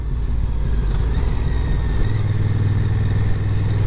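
A 2022 Honda NT1100 shaft-drive motorcycle drones steadily while riding, a loud, continuous low engine hum that deepens slightly partway through, with no voices.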